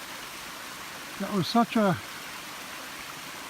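Fast, heavy flow of Bean Creek, a mountain creek near its headwaters, heard as a steady broadband rush throughout, with someone speaking briefly over it partway through.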